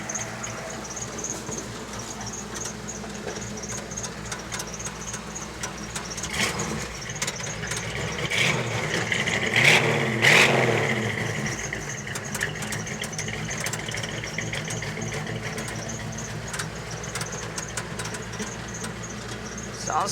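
A free old truck fitted with mufflers and a Nissan Pathfinder shifter idles with a low steady rumble, then revs up and settles back down, close by and with no speech.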